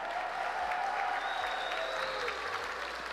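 Audience at a Texas esports state championship arena cheering and applauding, a dense continuous wash of clapping with a few whistles, loud and close.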